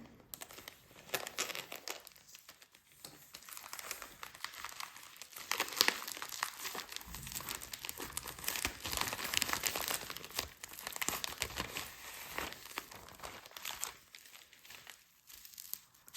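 A well-wrapped sticker package being unwrapped, with steady crinkling and tearing of wrapping material close by, continuous and fairly quiet throughout, with no talking.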